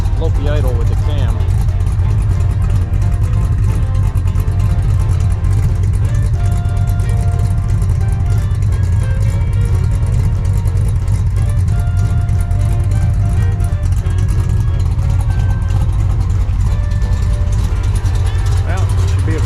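A Mercury Cougar engine with a lopey cam idles, a loud, steady low rumble with an uneven throb that holds throughout, while a person talks over it.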